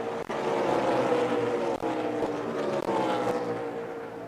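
NASCAR race cars at the Charlotte 600 make a loud, steady engine roar with layered droning tones. Brief dips mark cars passing by, and no voices are heard.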